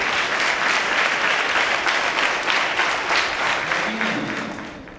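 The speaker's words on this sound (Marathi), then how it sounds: "जोरदार टाळ्या झाल्या पाहिजे त्या मैत्रीसाठी" An audience at a birthday celebration at a school event bursts into loud, sustained clapping that stays dense and even before gradually thinning out toward the end, with a voice briefly audible underneath.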